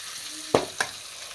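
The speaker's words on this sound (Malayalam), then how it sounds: "ഇത് നന്നായി ഫ്രൈ ആയി വന്നിട്ടുണ്ട്." Sardines fry in a pan, a soft sizzle broken by two sharp metallic clinks of a utensil stirring or lifting the fish, close and clear.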